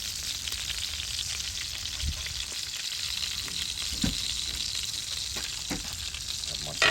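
Ribeye steaks sizzle in a cast iron pan on an outdoor grill, a steady bright frying hiss with a few soft knocks and shifts, close and even throughout.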